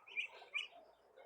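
Chicks in a coop give faint, high chirps, with two brighter peeps standing out over a soft, continuous twittering.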